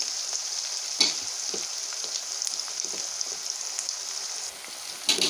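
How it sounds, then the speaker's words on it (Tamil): Dried shark fish thokku with garlic sautés in a pan, a constant bright sizzle close by, with a few quick scrapes of a stirring spoon and no talking. "இன்னும் கொஞ்சம் நேரம் நல்லா வதங்கி வரட்டும்"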